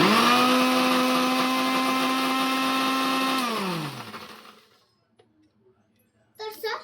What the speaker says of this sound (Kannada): ಇಷ್ಟನ್ನು ಹಾಕಿ ಕ್ಲೀನಾಗಿ ಮಿಕ್ಸಿ ಮಾಡಿ ಗ್ರೈಂಡ್ ಮಾಡಿದರೆ ಮಿಲ್ಕ್ ಶೇಕ್ ರೆಡಿ ಆಗಿಬಿಡುತ್ತೆ